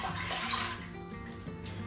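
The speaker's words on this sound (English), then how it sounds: "So we want to add our cup of water." Water poured into a pressure cooker for steaming vegetables, a brief steady splashing gush heard close up with no speech.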